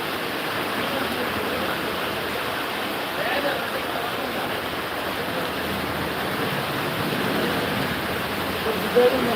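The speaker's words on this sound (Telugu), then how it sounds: "మామూలు వర్షం అయితే పడుతుంది" Steady rain falls over a village, a dense, even wash of noise with no pauses and no voices, holding at the same level throughout.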